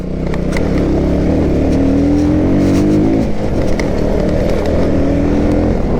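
A motorcycle fitted with a rear dirt tyre labours up a rough, rocky road near Gupteshwor Cave in Godawari. Its engine drones loud and close throughout, without letting up.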